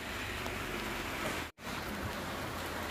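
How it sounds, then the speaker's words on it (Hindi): Heavy rain pours steadily in a rainy hill-country village, a dense, loud hiss that continues throughout with a split-second break. "बहुत ही ज़्यादा हैवी रेन हो रहा है ना"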